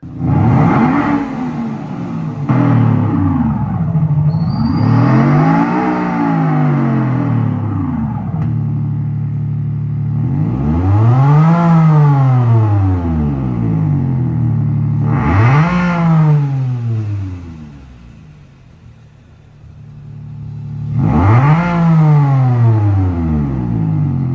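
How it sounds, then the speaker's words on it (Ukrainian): Synthetic exhaust note from an Audi A7 fitted with a Maxhaust active electronic exhaust system playing through speakers, repeated rising and falling revs in loud sweeping bursts with a short lull, no talking. "подає відповідний сигнал на динаміки, які вже відтворюють звук вихлопу автомобіля"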